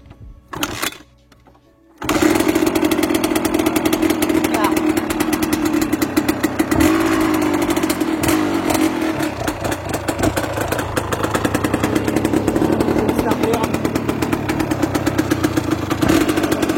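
A cold 125 CR two-stroke motorcycle engine coughs through a few short sputters, then catches and settles into a loud, steady, buzzing idle close by that holds throughout.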